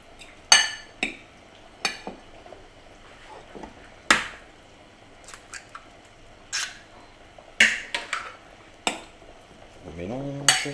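A utensil mixes grated potato pulp with an egg in a bowl, giving sharp clinks and scrapes against the bowl at an irregular pace between brief quiet gaps, close and distinct.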